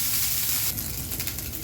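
Chopped green chilli and dried shrimp hit a hot pan, giving a loud, close, continuous hissing sizzle with a few brief spits and flares.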